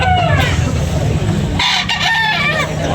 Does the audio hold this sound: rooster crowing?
yes